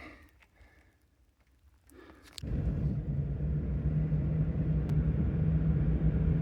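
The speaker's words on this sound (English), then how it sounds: "made it back to the truck. Let's back up a little bit, turn around." A truck starts up and idles with a steady low engine rumble while backing up and turning around on a backcountry trail in the Sierra Nevada, loud and close after a quiet start.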